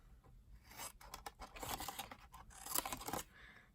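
Scissors cutting through paper while making a triangle box: a continuous close, crisp rasping snip that runs for several seconds, quiet and steady with no talking.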